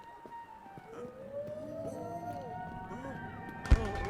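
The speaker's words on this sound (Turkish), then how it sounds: "Sirenler çalıyor." A siren wails throughout a wartime bombing scene in the video game My Memory of Us, a steady tone under rising and falling voice-like contours, with a sharp thud near the end.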